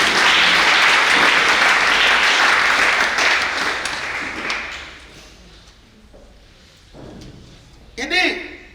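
A church congregation claps loudly in a dense burst that fades out after about four seconds, followed by a few faint taps and thuds and a brief voice near the end.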